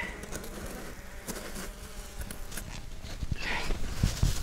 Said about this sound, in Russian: Вот они, пчелки.